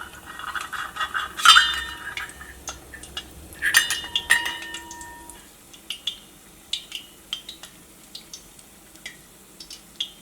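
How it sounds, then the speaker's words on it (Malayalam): A steel vessel is lifted and moved in a home kitchen while making cones from bread, giving a few sharp metallic clinks and knocks, then lighter scattered taps over a quiet background. "ഇനി നമുക്ക് സ്റ്റീലിൻ്റെ പാത്രം എടുത്ത് മാറ്റാം."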